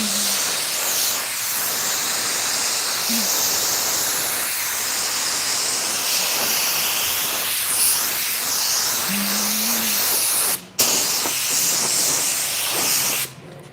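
Spray gun applying a coat of Nason automotive paint, a continuous loud airy hiss with a brief break near the end before spraying resumes.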